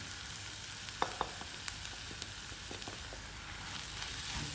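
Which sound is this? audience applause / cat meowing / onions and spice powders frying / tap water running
onions and spice powders frying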